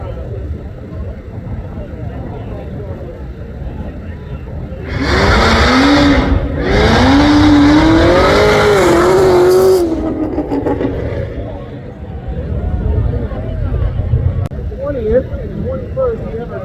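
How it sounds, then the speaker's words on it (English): A 2016 Cadillac revs its exhaust during a rolling exhaust competition at the Carlisle Import & Performance Nationals, a loud, rising engine roar that swells for about five seconds and then fades, with crowd chatter and voices around it. "first up we have David Work in his 2016 Cadillac. So David, go ahead and send it."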